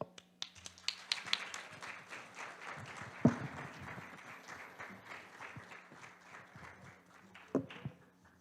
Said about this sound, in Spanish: Le damos un fuerte aplauso al ingeniero.